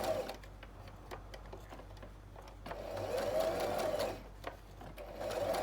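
A sewing machine stitches ruffles in Liberty fabric, its needle chattering in steady rapid bursts that speed up and slow down, close and fairly loud, with brief pauses between runs.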